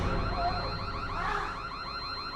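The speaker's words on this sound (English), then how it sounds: "the girl notices the remote to the alarm and activates it" A car alarm triggered by its remote, blaring a loud, steady electronic siren with a repeating warbling pattern that fills the short moment, close and alone without talk.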